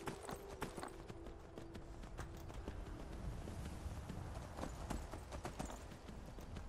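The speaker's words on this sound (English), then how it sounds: "Come on, horse. Can you pick up the pace, please?" Horse hooves clip-clop at a steady walking rhythm in the video game Skyrim, a continuous run of close, distinct hoof strikes with no talking over them.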